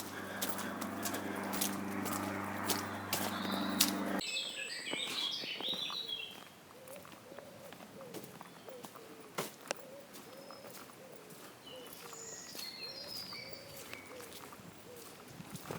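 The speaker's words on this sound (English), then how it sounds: "I hope that you're picking up the birds singing there." Birds sing in English woodland on a walk toward Lewes, scattered chirps and calls over steady outdoor ambience, with a louder broadband noise in the first few seconds before thinner birdsong continues.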